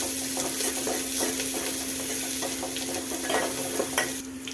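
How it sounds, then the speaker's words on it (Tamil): Onion and curry leaves sauté in a pan for a brinjal, ridge gourd and tomato kadayal, a steady close sizzle broken by repeated scraping stirs, with no voices. "கொஞ்சம் வெங்காயம், கொஞ்சம் கருவேப்பிலைங்க, நல்லா வதக்கி விட்டுக்கோங்க."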